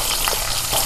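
Onion and chilies fry in hot oil in a pan, a brief, steady close-up sizzle with faint stirring and no talking.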